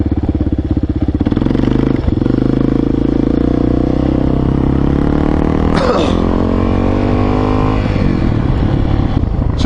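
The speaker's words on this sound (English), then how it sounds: "finish off the top end rev, but I think it's a little lacking on what that secondary carb does" A motorcycle engine with a secondary carburetor revs loudly and continuously up close, its pitch climbing and falling, with some clattering and scraping mixed in.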